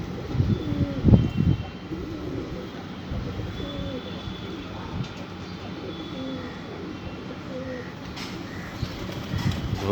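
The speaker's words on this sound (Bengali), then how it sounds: "পায়রার ডাক, সবাই একসঙ্গে ডাকলে কেমন লাগে।" Many pigeons coo together on a morning, a soft, steady chorus of low, overlapping calls that runs throughout at moderate distance, with a louder burst near the start and some background rumble.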